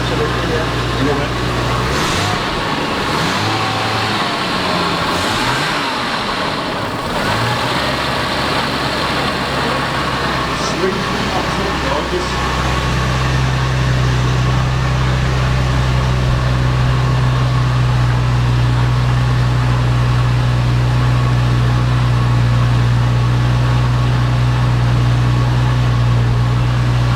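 A Jaguar XJS V12 drives along with a smooth, steady low engine hum and road rumble throughout, a deeper tone settling in partway, while people talk over it inside the car.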